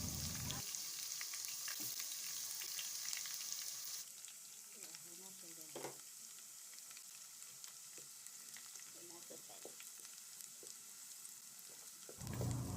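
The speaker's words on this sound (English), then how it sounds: "So in a heated oil, I've added some onions. Allow it to fry a bit." Onions fry in heated oil for a Nigerian jollof stew, giving a soft, steady sizzle with occasional stirring scrapes; a louder hiss opens the stretch, then the frying settles quieter before swelling again at the end.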